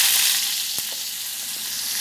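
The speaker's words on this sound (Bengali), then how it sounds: "কড়াইতে তেল গরম হয়ে গেছে, এখন আমি জিরে ফোড়ন দিয়ে দিচ্ছি" Cumin seeds sizzle and crackle in hot oil in a wok, a bright, dense, continuous frying hiss heard close up, with a single sharp tap partway through and no talk.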